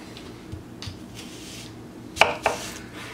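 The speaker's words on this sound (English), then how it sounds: "Now we need to slice our onion." A kitchen knife cuts an onion for lecho, a bell pepper stew, on a board, giving a few faint taps and then two sharper, distinct chops close by in a quiet room.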